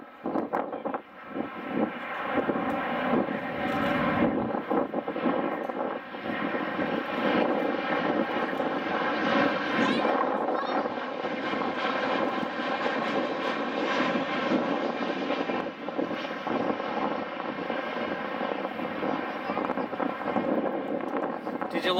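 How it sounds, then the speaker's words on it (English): Propeller airplanes fly overhead with a sustained, swelling engine drone and wind buffeting on the microphone, while people talk intermittently underneath. "Tommy, these are the planes that Daddy built."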